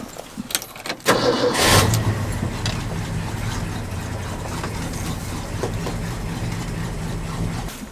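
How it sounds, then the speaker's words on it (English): A pickup truck in rough, worn condition has its engine fired up with a sharp start, then runs steadily at a low, rumbling idle as it is moved backward, loud and close, with no talking. "I'm going to move my truck"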